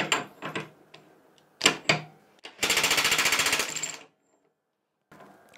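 A Parkside PASSK 20 Li cordless 20V 1/2-inch impact wrench loosening an M24 bolt with a 36 mm socket, giving a loud, rapid hammering rattle for about a second and a half after a few sharp clunks.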